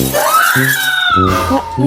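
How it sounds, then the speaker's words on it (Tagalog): A woman in a Roblox game lets out one long, high scream that rises and falls, loud and near, while voices talk underneath it. "Parang sigaw ng babae na parang natatakot"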